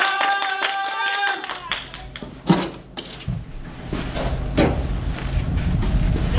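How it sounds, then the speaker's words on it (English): A group claps together, irregular bursts of hand claps mixed with laughter and voices, preceded by a brief tonal chime, fairly loud and crowded. "Everybody clap and laugh together one last time!"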